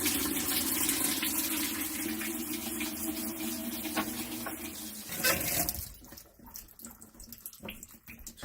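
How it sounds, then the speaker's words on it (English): Water pouring into the tub of an Amana top-load washing machine during a diagnostic run, a steady rushing fill that continues for several seconds before shifting to a quieter, more broken trickle. "So the water is filling up."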